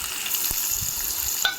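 Urad dal, chana dal, green chillies and dried red chillies fry in hot oil with curry leaves, a continuous close sizzle broken by a few sharp spatula clicks and stirring scrapes.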